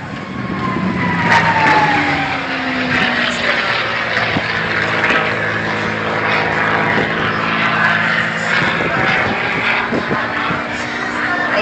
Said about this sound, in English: This particular maneuver will show the vertical capability of the P-51 Mustang.